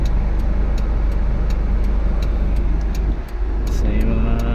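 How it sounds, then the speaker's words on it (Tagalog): Cars idle and move outside the Raffles and Fairmont hotel in Makati, giving a loud, continuous engine and traffic rumble with a few light ticks near the end. "nagkaroon ng mga sasakyan dito guys oh."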